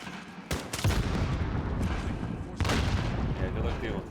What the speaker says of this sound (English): And I'm gonna throw some grenades.